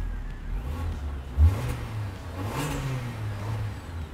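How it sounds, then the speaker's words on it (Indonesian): Suzuki Splash manual car engine idling close by, a low rumbling hum with a couple of modest revs rising and falling. "Dia suara mesinnya sporty banget."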